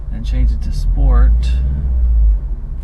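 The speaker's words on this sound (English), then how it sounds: "it's amazing how loud this car is at idle." A 2019 Subaru WRX STI idles in Sport mode, heard from inside the cabin as a loud, deep, steady rumble beneath someone talking over it.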